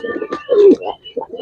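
Large racer pigeon cooing close by, a few soft throaty coos in a short, uneven rhythm with slight rustling between them.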